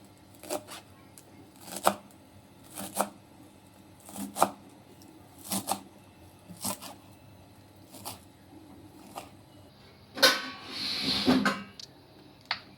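Sepu sag greens are chopped on a board in a steady rhythm of sharp knife strikes, about one per second, ending in a louder scraping rustle as the cut greens are gathered.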